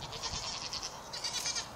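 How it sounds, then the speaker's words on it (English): Goats on a small farm, including a pregnant doe close to kidding, bleat over outdoor ambience. The calls are steady and fairly loud, and no one speaks. "The goats,"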